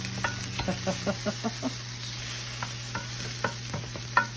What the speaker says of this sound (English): When you put the tomato paste in. I'm going to I'm going to let this cook for probably a minute